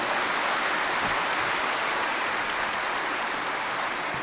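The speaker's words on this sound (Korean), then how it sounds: "큰 박수로 맞아주시기 바랍니다." A church congregation gathered for an Easter service applauds to welcome the guest pastor, a dense, steady wash of clapping that fills the space evenly throughout.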